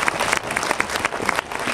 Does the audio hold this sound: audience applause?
yes